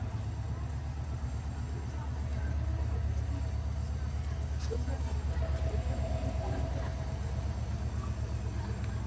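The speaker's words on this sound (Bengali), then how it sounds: "আচ্ছা যাক ট্রেন তো আসলো" A train arriving at a station rumbles steadily nearby, a low rhythmic clatter of wheels growing slightly louder, with faint voices in the background.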